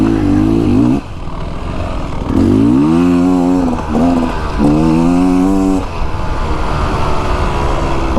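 2024 Beta Xtrainer two-stroke dirt bike ridden up close: a loud, buzzy engine note that rises and falls in several throttle surges, with short dips between revs and a steady run near the end.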